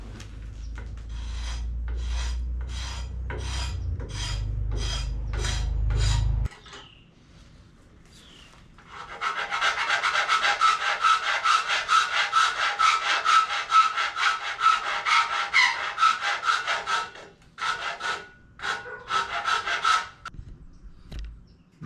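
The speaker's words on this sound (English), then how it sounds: "That right there is all with the rasp" A wood rasp shapes a hickory Comanche-style bow in rhythmic scraping strokes, close and loud, first in short separate passes, then a pause, then a long run of rapid back-and-forth filing before a few final strokes.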